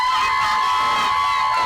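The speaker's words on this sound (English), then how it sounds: "Crowd cheering behind us." Crowd cheering at a football grand final, a continuous wash of distant voices and whoops from the stands with a steady tone running through it.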